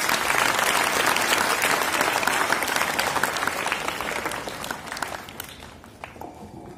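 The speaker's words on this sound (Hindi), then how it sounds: "उसकी उड़ाने के लिए तालियां बजा सकते हैं" Students and audience at a school Earth Day program applaud a girl's poem, a loud sustained burst of clapping that thins and fades toward the end.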